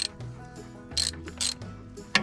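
A ratchet wrench clicks in a few quick bursts while turning on a New Holland skid steer hydraulic cylinder during repair, close and metallic with short pauses between strokes.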